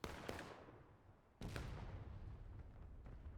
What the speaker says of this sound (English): Good cannon shot.